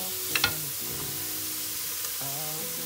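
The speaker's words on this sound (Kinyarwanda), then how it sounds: "nimara kujyamo amavuta nshaka igitunguru kuko kiri buze gushyana n'imboga ndasukamo na puwavuro" Onion and leek frying in oil for a fish and vegetable dish make a continuous close sizzle, with two quick utensil clicks early on and a faint tonal hum underneath.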